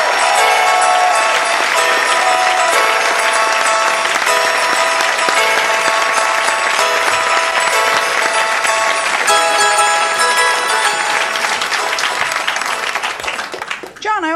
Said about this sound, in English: Cheer for John.